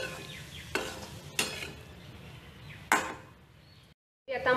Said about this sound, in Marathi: आता मी ह्यामध्ये जे आपण बटाटे फ्राय केलेले आहे ते घालतीये आणि छान मिक्स करून घेणार आहे आणि मग थोडे परतून घेणार आहे.